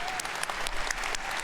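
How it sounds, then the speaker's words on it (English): Scattered, polite applause: a light golf clap of sparse, individual hand claps at moderate volume. "Golf clap."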